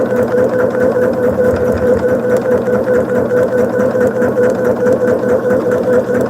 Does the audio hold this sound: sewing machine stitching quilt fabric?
yes